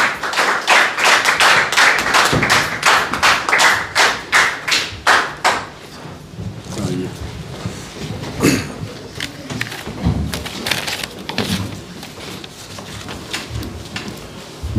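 Audience applause at an Urdu mushaira in London welcomes a poet, dense clapping for about five seconds then thinning into scattered claps and light thumps.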